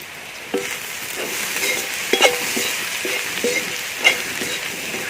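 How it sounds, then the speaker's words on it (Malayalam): Homemade garam masala and salt being stirred into a frying duck mappas in a pan, with a steady sizzle and several scraping strokes of a spoon, close and alone. "ഇനിയിപ്പോൾ നമുക്ക് ഇത് നല്ലപോലെ ഒന്ന് ഇളക്കി കൊടുക്കാം."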